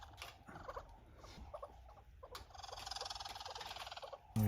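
Wild sparrows and starlings around a lodge in Kruger National Park, a busy mix of chirps, chatters and warbling calls, fairly faint and close, with no talking.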